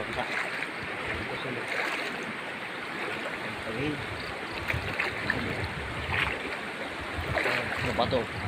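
Continuous rushing and splashing of a rocky river being crossed on foot, close and broadband, with occasional louder splashes and faint voices mixed in.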